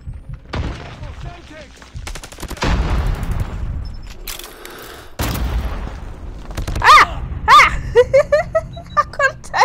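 Bursts of gunfire and booming blasts ring out in the mobile shooter game Call of Duty Mobile, with rapid automatic volleys and heavy thuds scattered across the stretch, while a voice speaks at times.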